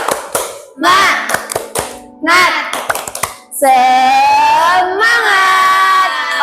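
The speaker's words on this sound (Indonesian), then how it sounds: "Oke, tepuk semangat." Primary school children do a 'tepuk semangat' rhythmic clap, several quick claps in a pattern between loud group chanting, ending in sustained shouting voices.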